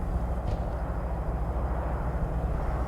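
A steady, droning aircraft engine rumbles continuously from a plane in the tank combat game War Thunder, low and even throughout with no talk.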